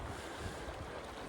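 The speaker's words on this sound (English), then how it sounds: "It's pretty windy and cooling down." Wind rushes without a break at a riverside camp on the Salmon River, a broad, even blustery hiss with buffeting on the microphone, fairly quiet and with no voices.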